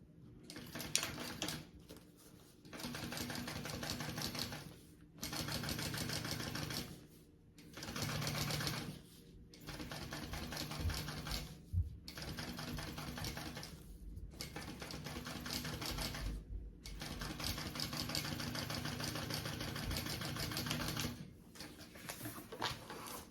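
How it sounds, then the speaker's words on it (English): A sewing machine topstitches along a contrast band on a crossbody bag, running in long steady bursts of rapid needle patter with brief pauses between runs, close and fairly loud. "I'm gonna top stitch right along that contrast band"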